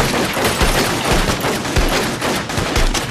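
Sustained gunfire on the set of a Bigfoot film shoot: a dense, loud fusillade of overlapping shots with sharp low thumps recurring every half second or so, filling the whole stretch without any voices.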